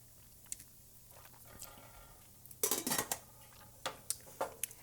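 Metal clinks and scrapes of a spoon stirring a pot of bone broth and a lid being set on it, scattered light knocks followed by a louder cluster of clatters, close and without talk.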